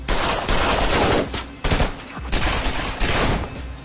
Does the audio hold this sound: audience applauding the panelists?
no